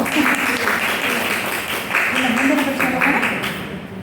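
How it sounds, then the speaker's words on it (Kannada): An audience at a devotional quiz on the Srinivasa Kalyana story breaks into sustained applause for a correct answer, a dense wash of clapping that rises and dips over several seconds with voices talking underneath. "ಉತ್ತರ ಸರಿಯಾಗಿದೆ ಚಪ್ಪಾಳೆ"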